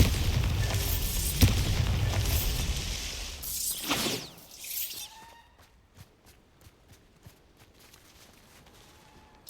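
Bombarda spell explosions in Hogwarts Legacy: a sharp boom with a shattering burst early on and another blast around the middle, followed by quieter scattered debris clatter and faint steps.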